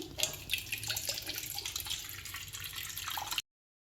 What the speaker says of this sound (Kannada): ಇವಾಗ ಸ್ವಲ್ಪ ನೀರು ಹಾಕ್ತಾಯಿದ್ದೀನಿ